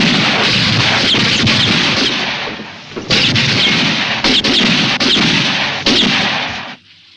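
Rapid bursts of gunfire crack out in a western film shootout, loud and close, coming in dense volleys with brief gaps between them before cutting off sharply at the end.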